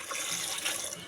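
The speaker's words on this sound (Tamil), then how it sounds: "இப்போ இதில் தண்ணி ஊற்றிடலாம்" Water pours steadily into a cooking pot holding small onions, drumstick and tomato for Tirunelveli idi sambar, a continuous bright splashing stream, close and fairly quiet, with no talk.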